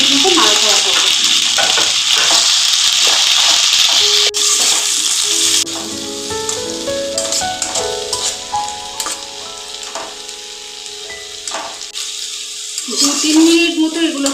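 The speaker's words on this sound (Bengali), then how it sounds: "পেঁয়াজ বাটা, টমেটো বাটা দিয়ে আমরা আবার 2-3 মিনিট মতো নাড়াচাড়া করবো" Onion paste and chopped tomato are stir-fried in a pan for a kofta curry of green banana, a loud steady sizzle with scraping stirs that drops partway through, while a voice talks over it.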